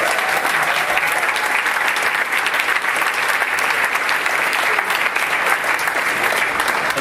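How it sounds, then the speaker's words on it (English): Sustained audience applause fills a rowing association's fall banquet, a steady dense wash of many hands clapping at even loudness throughout, with a faint crowd murmur underneath. "Give them a round of applause."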